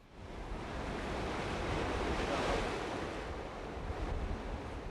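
Sea waves break and wash against the flat rocky basalt shore of Gueom-ri on Jeju Island, a continuous roaring surf mixed with wind buffeting the microphone, swelling slightly in the middle.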